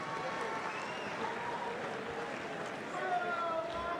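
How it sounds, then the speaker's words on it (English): A crowd at a Muay Thai League fight keeps up steady applause and cheering across a large arena, a dense continuous wash of clapping that swells slightly near the end. "Keep your applause going for Marcus, ladies and gentlemen"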